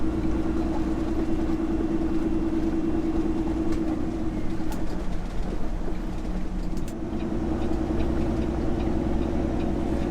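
A truck pulling a short trailer passes on a highway near Pasadena, heard from inside a vehicle as a steady loud rumbling engine drone with road noise that eases briefly, no talk.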